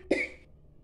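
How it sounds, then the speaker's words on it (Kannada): A single short, dry cough sounds once, quiet and alone, in a home kitchen. "ಯಾಕೋ ಕೆಮ್ಮಿದೆ ಇವತ್ತು"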